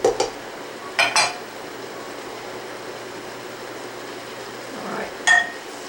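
A utensil scrapes and clinks against a pan as garlic is stirred in, with a few short metallic taps spaced seconds apart over a soft steady sizzle.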